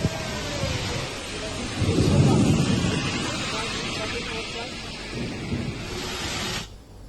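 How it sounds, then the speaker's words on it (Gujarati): Thunderstorm with heavy rain over Rajkot district in Gujarat, with strong winds and hail: a steady dense hiss of pouring rain under a deep rumbling thunder roll that swells early, then fades before an abrupt cut near the end. "રાજકોટ જિલ્લામાં ગાજવીજ સાથે ધોધમાર વરસાદ વરસ્યો"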